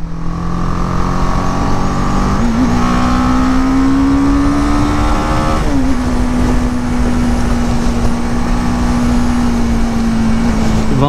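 A BMW GS 310 motorcycle climbs a mountain road on the Serra de Corupá, its engine loud and close with a steady drone that drops twice as gears shift, then holds a constant pitch.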